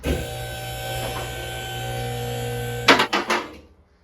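A car lift raising a BMW X5 hums steadily for about three seconds, then stops with a few sharp mechanical clunks and falls quiet; no speech.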